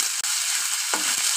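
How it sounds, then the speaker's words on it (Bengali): Chopped potatoes frying in a pan give a loud, continuous bright sizzle, broken by a couple of quick stirring scrapes. "আলু কুচিগুলো আগে ভালো করে ভেজে নিব।"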